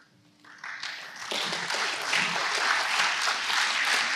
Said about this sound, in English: Y'all have to stop clapping.